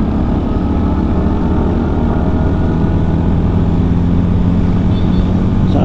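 A CFMoto Papio XO-1 motorcycle being ridden, its engine a steady loud drone under constant wind rush with no break throughout.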